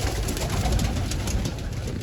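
Pigeons coo in a steady, close, continuous murmur, with no voices.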